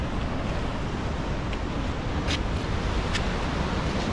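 Ocean surf rolls in at Shell Beach on the coastline of La Jolla, California, a loud, continuous wash of waves mixed with gusting wind buffeting the microphone, with no voices.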